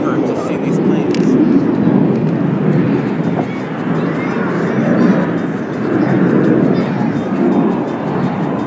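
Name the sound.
airplanes flying overhead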